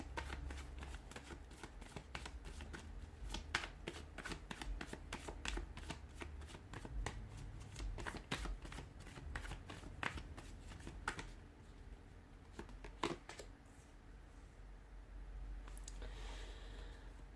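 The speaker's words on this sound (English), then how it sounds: "give the cards a shuffle" Tarot cards are shuffled over and over in quick, crisp riffles and flicks, close up and rhythmic, with no talking.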